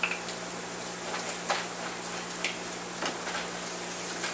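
Tomato paste and garlic frying in a pan, a steady close sizzle with occasional soft scraping and clicking from stirring.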